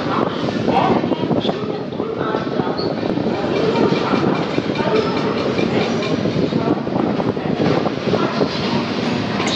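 The 12337 Shantiniketan Express pulling out of Bardhaman station, giving a loud, steady rumble and rattle of the moving carriages heard from on board, continuous throughout with a faint voice mixed in.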